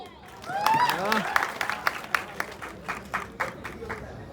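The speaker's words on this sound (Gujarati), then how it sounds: "જોરદાર તાળી થઈ જાય." An audience claps after a voice, producing a scattered run of hand claps that carries on steadily at moderate loudness.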